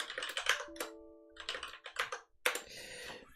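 Typing on a computer keyboard at a desk during live web development work, heard as clusters of clicky keystrokes alongside other close room sounds, with no talking.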